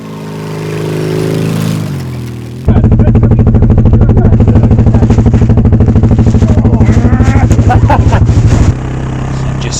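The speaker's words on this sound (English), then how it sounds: "a beacon of hope, a quad bike, in the distance" A quad bike engine runs loud and close in open wilderness, starting abruptly into a rapid, throbbing beat that holds steady for several seconds before cutting off sharply.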